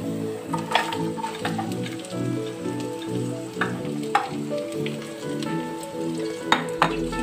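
Onion, coconut pieces, curry leaves and chopped green chilies crackling in hot oil during a cooking competition, with a continuous sizzle and intermittent clinking, scraping stirs as chopped green beans go in.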